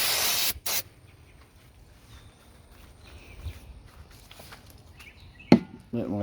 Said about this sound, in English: If I do a little bit of this with the brake clean